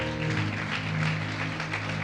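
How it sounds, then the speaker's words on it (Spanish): A church congregation gives a strong round of applause for the pastor's father, dense and continuous with music or a low hum sustained underneath. "Bríndele un fuerte aplauso a papá"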